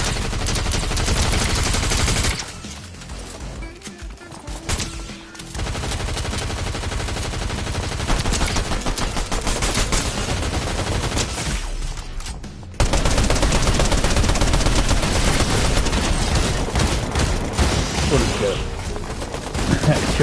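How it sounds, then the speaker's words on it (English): Auto shotgun fire from bots in a Fortnite match, loud rapid repeated blasts that pause briefly and resume even harder, packed with gunfire throughout and faint voices now and then underneath. "Killed by auto shotgun by the bots."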